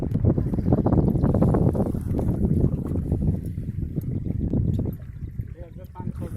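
Boat crossing a river at Atmalik, Angul district, toward Dhalpur ghat, with steady rumbling wind buffeting the microphone and water noise, while people talk throughout.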